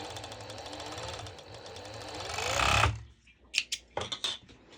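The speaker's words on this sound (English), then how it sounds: "I'm going directly to my serger, and I'm going to serge the ends together" A serger stitches the ends of a folded elastic band together, a loud steady mechanical whirring that builds and then cuts off abruptly, followed by a few short bursts of stitching.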